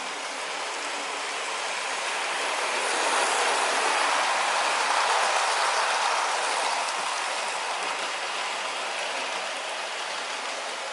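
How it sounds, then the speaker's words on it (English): Two Hornby Merchant Navy Class model steam locomotives running on a layout, a broad steady whirring rush that swells toward the middle and eases off, with no clear rail clicks standing out. "we'll get both the locomotives up to speed"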